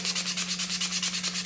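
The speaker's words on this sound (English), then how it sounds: "You're only sanding this part here where you cut" Rapid back-and-forth scrubbing of 150 grit sandpaper along a saw-cut edge, a close, steady rhythmic rasp of about eight strokes per second with a faint hum beneath.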